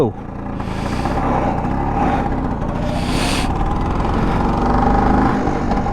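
A 1976 vintage Vespa two-stroke scooter pulls away in first gear, its mid-pitched engine rising steadily in a continuous whirring drone, close and fairly loud, with wind noise swelling in brief gusts.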